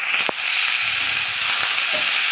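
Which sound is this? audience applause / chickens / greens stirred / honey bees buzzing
greens stirred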